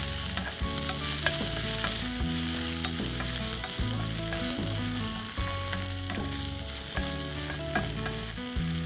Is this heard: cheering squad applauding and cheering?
no